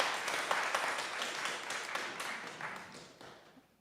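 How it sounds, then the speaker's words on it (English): Congregation applause at a church service on climate and justice, a steady, dense patter of many hands that carries on for several seconds and slowly fades toward the end. "We got some more applause."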